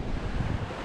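Brief, steady rush of sea churning against rocks on a Scottish coast, blended with gusting wind on the microphone, close and continuous.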